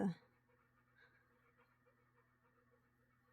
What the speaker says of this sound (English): I hear one of my dogs came over here